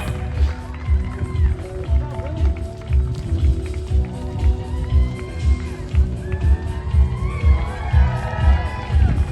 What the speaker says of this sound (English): Let's hear those cheers.